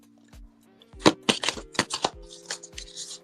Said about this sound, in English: I'm gonna just shuffle and do it like this because they're so big